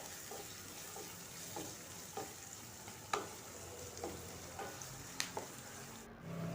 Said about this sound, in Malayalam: ഇനി ഈ ചെറിയ ഉള്ളി നന്നായി ഒന്ന് വഴറ്റിയെടുക്കാം.